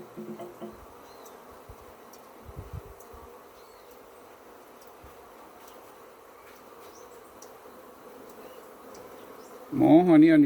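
Honeybees at an opened hive buzzing in a steady, low drone that has the agitated edge of a riled colony, with a louder, closer burst of sound at the very end.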